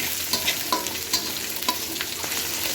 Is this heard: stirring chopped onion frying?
yes